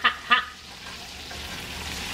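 Shrimp and sausage fry in hot butter in a pan, giving a steady close sizzle that holds through the clip after two brief clatters at the start.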